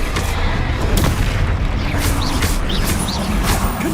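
Bombarda spell explosions in the Hogwarts Legacy game: loud booming blasts layered with crackling debris, landing in repeated bursts about every half second over a constant rumble.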